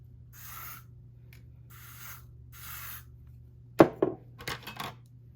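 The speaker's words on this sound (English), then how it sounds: "I am going to take the wax, the spray wax. It's a Got2b spray wax, and I am going to spray on the front of my hair" Got2b spray wax is sprayed onto the front edges of hair in three short, evenly spaced hissing bursts, followed by a few sharp clicks and taps, with no talking.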